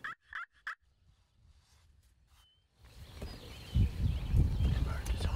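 A wild turkey gobbles three times in quick succession from fairly close on an early morning hunt, followed by a stretch of quiet and then rustling and movement noise on the ground nearby.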